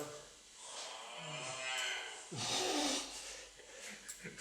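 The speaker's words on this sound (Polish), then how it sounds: "Uwielbiam ten twój dzwonek. Krowa." A cow-moo phone ringtone plays, a low drawn-out call followed by a snorting breath, fairly quiet and with no talking.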